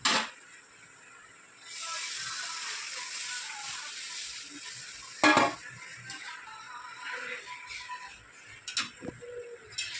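Cooked dal lentils are poured into a pan of fried spice masala for an egg dal curry, with a steady, hissing wash of liquid and sizzle lasting several seconds, punctuated by a metallic clank and light utensil knocks.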